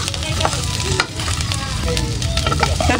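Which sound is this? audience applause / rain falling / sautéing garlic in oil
sautéing garlic in oil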